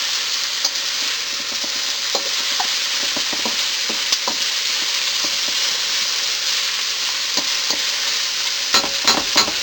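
Garlic fries for Filipino pancit bihon with a constant loud sizzle in a pan, while a utensil scrapes and stirs it in scattered clicks throughout.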